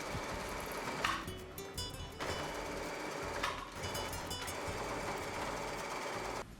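Sewing machine stitching the top and bottom parts of a fabric face mask, a steady close mechanical whir that runs continuously with brief shifts in speed.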